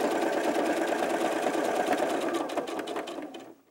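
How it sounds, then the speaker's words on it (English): A sewing machine stitches the front of a fabric panel on a top for an 18-inch doll, giving a steady, close motor whir with a rapid needle rhythm that runs continuously, then slows and fades at the end. "I like to sew on the front of the panel so that I can get a nice clean stitch."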